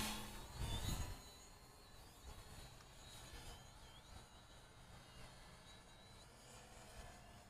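A Hubsan Zino drone flying, a faint, steady whirring hum that holds at a distance, with a brief louder rumble near the start and no talk.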